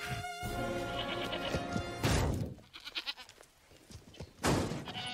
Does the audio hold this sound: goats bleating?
yes